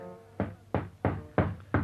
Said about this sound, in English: by the long estranged couple, Dee and Clive, is broken by the postie's knock